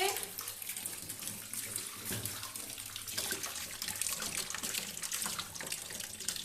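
Tap water pours steadily into a sink while fish is washed, a continuous close rushing splash with slight fluctuations and no pauses.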